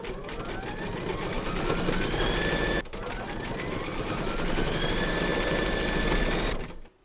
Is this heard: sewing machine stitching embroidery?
yes